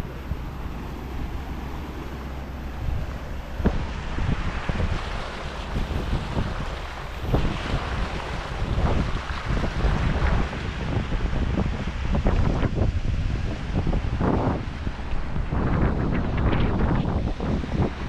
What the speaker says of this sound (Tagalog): Lalaki ang alon dito banda.